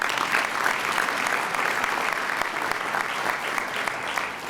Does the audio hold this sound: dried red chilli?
no